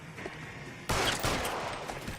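A sudden loud burst of gunfire in the video game L.A. Noire, a dense fusillade of overlapping shots that starts abruptly after a quieter moment and keeps rolling to the end.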